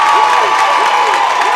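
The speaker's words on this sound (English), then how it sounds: "mock cheer by the crowd here." Basketball crowd in a high school gym lets out a loud mock cheer, a sustained mass of voices and noise with squeaky sneaker chirps underneath.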